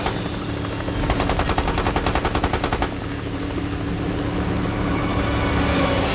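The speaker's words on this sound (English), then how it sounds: "The Coast Guard opens fire." Rapid automatic gunfire bursts from a Coast Guard helicopter as warning shots at a fast drug boat, a loud run of evenly spaced shots over roaring rotor and engine noise that continues after the firing stops.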